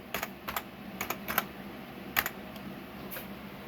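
Keystrokes on a computer keyboard while entering a system settings search, a few quick bursts of clicks with short pauses, close and moderately quiet.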